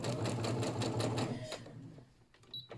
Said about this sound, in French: On vient réaliser une petite piqûre ici tout au bord